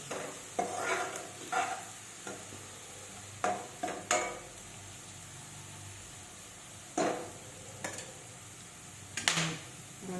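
Marinated chicken frying in a hot pan for Telugu chicken curry with bagara rice, a low steady sizzle broken by repeated sharp scrapes of a spoon stirring against the pan.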